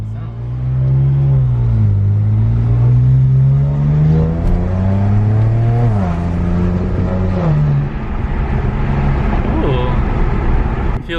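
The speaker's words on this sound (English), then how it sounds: "The turbos are like really loud." BMW 335i with N54 twin turbos and catless downpipes accelerating hard, a loud, rising engine drone with turbo whoosh through repeated gear pulls, up close from inside the car.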